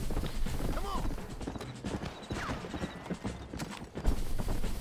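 Horse hooves clip-clop steadily in the Red Dead Redemption video game, a busy rhythmic clatter mixed with other game sounds and a brief whinny, under someone talking.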